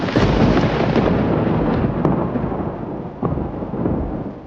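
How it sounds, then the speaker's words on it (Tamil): Thunder rumbling through a dramatized sermon scene in a Tamil church setting, a continuous heavy low roar that swells loud and sustained, with a couple of sharper cracks breaking through, no speech over it. "அப்பொழுது இடி, மின்னல்,"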